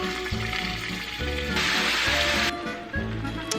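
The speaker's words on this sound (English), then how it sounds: "To your medium hot pan, go ahead and add your oil. Go ahead and add your meat to the pan." Meat frying in oil in a medium-hot pan for beef chile con carne gives a steady, dense sizzle with a brief louder crackling burst partway through and faint clatter underneath.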